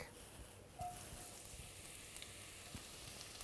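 Onion, shallot and garlic frying in warm olive oil on a gas stove, a faint steady hiss and crackle that runs continuously throughout with no talk.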